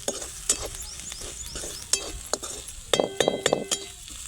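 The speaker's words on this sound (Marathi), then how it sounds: "कढीपत्ता कोथिंबीर टाकून घ्यायची आणि आपले मसाले चांगले परतून घ्यायचे" Onion, curry leaves, coriander and masala sautéed in oil, with a spoon scraping and clinking against the pan in irregular strokes, denser near the end, over a light sizzle with no talk.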